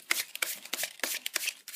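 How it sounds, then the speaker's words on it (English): Playing cards being split through a Hindu shuffle: quick, close papery riffling bursts come in a steady repeating rhythm, one packet after another, with no voices. "Now what we're going to do is a Hindu shuffle."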